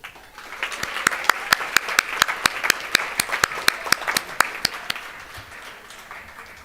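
Audience applause at a 2022 medical honor society induction ceremony in Chicago, with crisp, evenly spaced loud claps standing out over a steady wash of clapping for several seconds before it tapers off.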